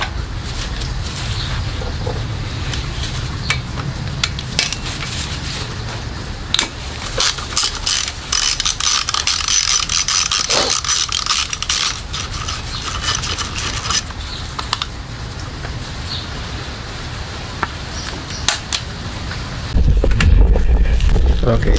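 A ratchet wrench clicks steadily as bolts come off the timing belt cover of a Honda Prelude H22/H23/F22 engine, with mechanical clatter throughout and someone talking over it.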